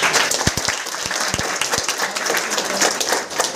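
An audience applauding, a dense, steady wash of many hands clapping that fills the whole moment.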